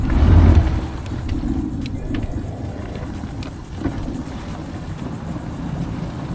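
A Suzuki outboard motor on an East Cape EVO skiff idles and trickles the boat through about a foot of shallow water, a steady low rumble with water wash, close and alone without talk.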